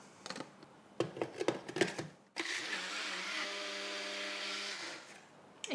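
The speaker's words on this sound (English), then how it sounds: "this has been blending for about a minute now" Countertop blender whirring through peanut satay sauce, a loud, steady motor whine with a tonal hum that runs for a few seconds after some clattering setup noises, then cuts off.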